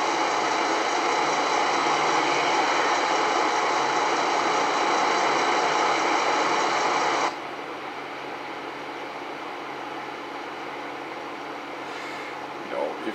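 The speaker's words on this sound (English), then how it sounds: "So the engine is too slow." Truck engine in American Truck Simulator drones loudly and steadily, then drops abruptly to a quieter hum partway through.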